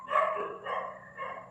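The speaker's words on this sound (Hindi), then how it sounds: "रात के 12 बज रहे, थोड़ा कुत्ते भौंक रहे हैं" Dogs barking at night, three short muffled barks in an uneven series, fairly distant and faint, with no other sounds.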